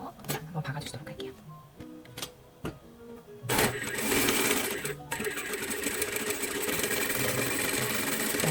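A sewing machine stitches lace at 0.5 cm spacing. After a few seconds of scattered clicks and handling, a steady, close mechanical whir runs to the end, with a brief pause partway through, and someone speaks softly over part of it.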